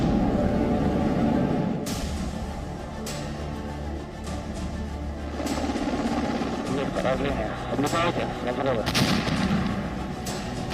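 Artillery fire during a Russian attack on Kharkiv, with repeated sharp booms and cracks over a dense rumbling background, partly under a talking voice.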